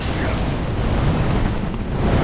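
A pyromancer's fire spell in Dark Souls 3 player-versus-player combat, a loud, steady roaring whoosh of flame that lasts the whole moment.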